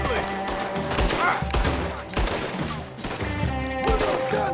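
Guns firing in a video game: repeated loud shots and bursts scattered across several seconds, mixed with game sounds and occasional voices.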